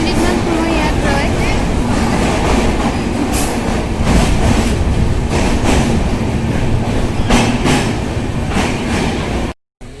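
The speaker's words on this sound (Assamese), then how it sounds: "এয়া ডিমাপুৰ ষ্টেচনত আমাৰ ট্ৰেইনখন ৰৈছে" A train at Dimapur railway station gives a steady loud rumble with intermittent clanks and rail clatter over ten seconds, ending abruptly in a brief silence, with faint voices in the background.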